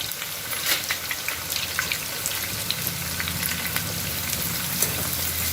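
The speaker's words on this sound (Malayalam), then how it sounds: "എല്ലാം സവാളയുടെ പകുതി ഞാൻ നന്നായിട്ട് വറുത്തെടുത്തിട്ടുണ്ട്" Steady crackling sizzle of onions frying in hot oil for a mutton curry, close and continuous, with scattered pops and light stirring scrapes.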